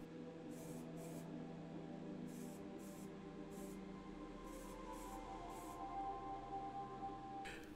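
Bursts of aerosol spray primer, a second and third coat on a restored Matchbox 32B Jaguar E-Type diecast model car, hiss in several short, evenly spaced puffs, close and soft.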